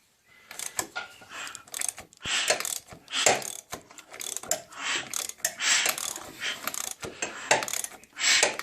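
A Peugeot XUD diesel engine with a Bosch pump, fitted in a rear-wheel-drive kit car, is cranked over for test spins, giving a steady run of loud, rhythmic mechanical churning and clattering pulses with no talking.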